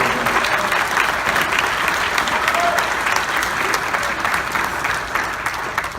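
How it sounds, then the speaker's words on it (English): Dense, steady applause from a ceremony audience for 10-year service pin recipients, a full crowd clapping continuously at even loudness throughout. "Round of applause for the 10 years."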